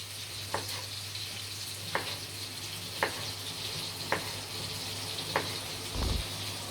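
Poğaça pastries frying in a pan give off a steady hiss and sizzle, broken by soft periodic pops and crackles at regular intervals, with no talking.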